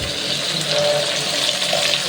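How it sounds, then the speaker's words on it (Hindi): Steady rush of water poured straight from a container into a cooking pot of sabzi, continuous and fairly close, with no voices during the pour. "मैं इसमें पानी डालूंगी"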